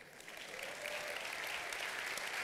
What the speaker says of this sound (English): usually people applaud.